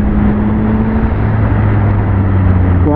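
Engine of a 2021 Yamaha MT-09 SP three-cylinder motorcycle, a loud, steady drone with pitch shifting partway through and rising sharply at the end as it accelerates, no voices present.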